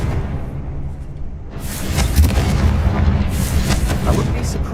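Confringo spell explosion in Hogwarts Legacy: a loud, booming fiery blast that swells in and rumbles for several seconds, with sharp crackling bursts layered over a dense low roar.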